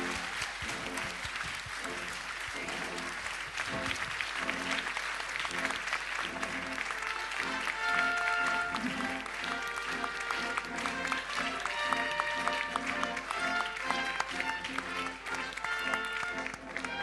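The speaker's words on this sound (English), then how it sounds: "Big applause, of course." Audience applause at the Dragon Awards 2013 ceremony as the Best Nordic Documentary winner, Finnish Blood, Swedish Heart by Mika Ronkainen, comes up; sustained crowd clapping with music and some voices mixed in.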